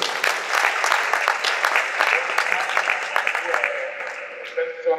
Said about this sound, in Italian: Un applauso a Giuseppe Calabrese